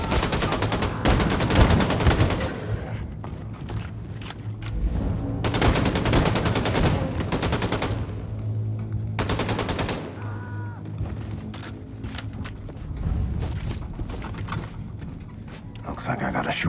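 Video game laser gun firing in repeated bursts and sustained volleys, loud and close, mixed with game music and effects.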